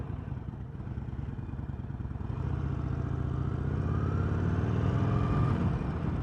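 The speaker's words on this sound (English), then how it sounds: "We're gonna go ahead and crank her up now." A 2022 Harley-Davidson Sportster Forty-Eight motorcycle engine runs close by, a steady low rumble that grows louder and fuller partway through as it idles and revs slightly, with no talking.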